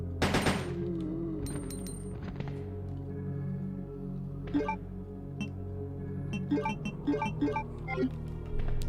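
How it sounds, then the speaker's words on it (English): Upgraded shotgun fire in Resident Evil 2 (1998): a loud blast at the start, then further booming shots and metallic clanks spaced across the clip over a steady low game drone. "Love the shotgun when it's upgraded"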